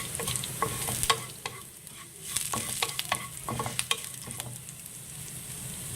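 Roasting ingredients for yogurt rice stirred in a pan on the stove: a steady broadband sizzle runs throughout, punctuated by frequent sharp scrapes and clicks of the utensil against the pan, close and moderately loud, with no talking.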